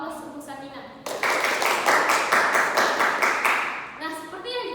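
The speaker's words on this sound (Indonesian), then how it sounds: "Beri dulu aplaus untuk Sakina" A classroom of students claps for a classmate: a burst of close, dense applause lasting about three seconds, with a voice speaking before and after it.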